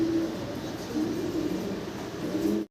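German Beauty Homer pigeons coo in low, repeated throaty calls, close and overlapping, with a steady background murmur.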